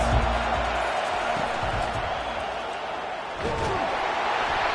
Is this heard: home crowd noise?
yes